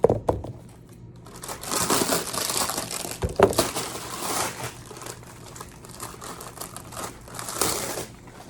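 A box holding a set of 19 homeschooling books gets sliced open at close range, with scratchy cutting strokes, crinkling packing material and tapping handling noises in an irregular rhythm, with no talking.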